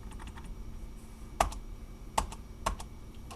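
Keyboard typing at a computer while editing an HTML document, with a few soft scattered keystrokes and three sharper, louder key clacks spaced about a second apart, close and with no talking.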